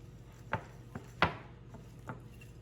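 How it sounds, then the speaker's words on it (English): Cookie batter being stirred with vanilla and sweetener mixed in, heard as a few soft knocks and scrapes of a utensil against the bowl at uneven intervals, quiet and close with no voices. "Just going to stir this up just a little bit."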